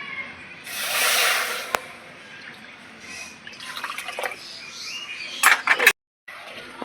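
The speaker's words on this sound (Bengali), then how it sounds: "দু বাটি জল দিয়ে দেবো" Water is poured onto sugar, cardamom and cloves for a syrup, heard as a brief splashing pour close by, followed by scattered drips and small clinks.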